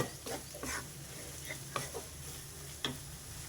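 An egg and chili mixture frying in a pan gives a quiet, steady sizzle, with occasional spoon scrapes and taps against the metal.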